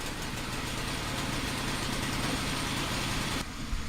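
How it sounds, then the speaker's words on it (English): A video game engine runs steadily at idle, a dense mid-range hum that holds close and even for several seconds before dropping slightly near the end. "Hopefully the engine doesn't explode like it tried to last time I did this."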